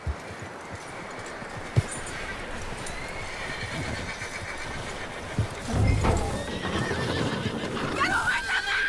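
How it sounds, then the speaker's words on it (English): A horse whinnies and snorts close by in the video game Red Dead Redemption 2, with scattered hoof clops and a brief shrill neigh near the end over a low background rumble. "That looks like a decent horse."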